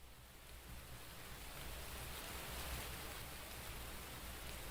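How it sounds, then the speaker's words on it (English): Steady rain falls outdoors as a dense, even hiss. It stays constant and fairly soft throughout, with no voices over it. "It's raining outside."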